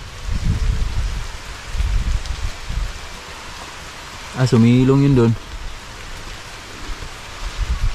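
Heavy rain pours steadily in the open on a banana plantation, a dense continuous hiss with low thumps. Someone speaks briefly partway through, and the downpour keeps going under him.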